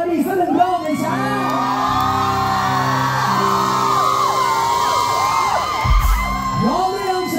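A large concert crowd of fans at an outdoor temple fair show in Thailand cheering and shouting continuously, loud and dense throughout, with high whoops and yells rising over a steady roar.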